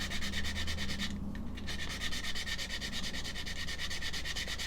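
Close, continuous rhythmic sanding of a plastic model part to remove sink marks, quick even back-and-forth strokes of abrasive paper with a brief pause near the start, no voices.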